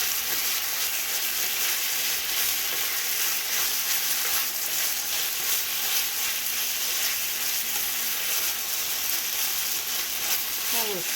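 Garlic sizzles steadily in hot sesame oil in a pan for pork and rice, a dense, even crackle that holds loud and continuous throughout.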